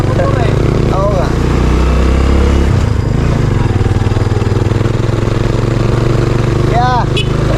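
A motorcycle engine runs steadily and loudly the whole time, with a low, constant drone under people talking nearby.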